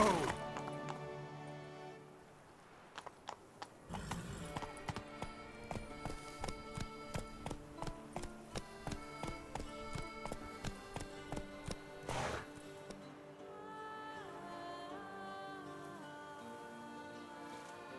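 Roach, a horse in The Witcher 3, gallops with a steady, evenly spaced clip-clop of hooves over several seconds, close up, starting and easing off with a faint game score underneath and no talking.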